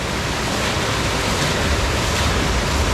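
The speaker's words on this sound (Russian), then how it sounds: "Здесь же вход в бассейн и такой импровизированный водопад." Improvised waterfall at a hotel swimming pool, water pouring down in a loud, steady, close rush of broadband splashing with no pauses.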